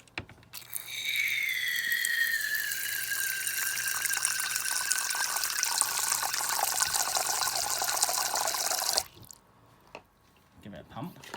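Tap water runs steadily into a tarantula's water bowl for about eight seconds, a bright hissing stream with a rising filling tone, then cuts off abruptly, leaving quiet room sound.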